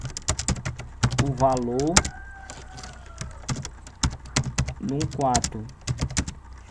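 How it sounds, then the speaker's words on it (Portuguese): Rapid, irregular clicks of a computer keyboard sound up close as commands are entered, clustered in quick bursts while someone speaks Portuguese over the typing. "Aqui eu vou digitar os comandos"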